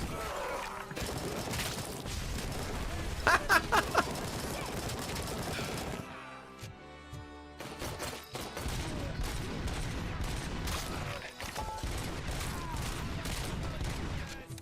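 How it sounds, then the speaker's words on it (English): Gunfire in Robocop: Rogue City, rounds shooting through a pillar, with rapid sharp shot bursts and crashing debris, then a brief lull and a louder resumption of dense, close firing with talk mixed in. "Ooh, shooting through the pillar."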